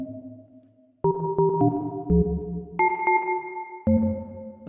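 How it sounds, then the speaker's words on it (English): A ring-modulated synth patch from Native Instruments Massive plays metallic, bell-like tones with reverb, a sequence of struck notes that ring out and decay into a washy tail. "So you can create like metallic sounds or bell-like sounds with the ring modulation"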